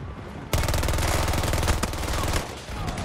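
Automatic weapon fire in Battlefield 2042 rattles out as one loud, rapid sustained burst starting abruptly and lasting about two seconds, with no voices over it.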